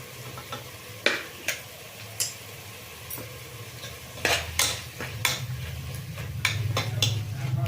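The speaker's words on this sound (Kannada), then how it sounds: "ಅದೆಲ್ಲ ಚೆಂದಾಗಿ ಫ್ರೈ ಆಗಲಿ" Spices with garam masala, coriander powder and chilli powder fry in a pan for fenugreek-leaf rice, a steady low sizzle under sharp clicks and scrapes of a spoon against the pan, with no voices.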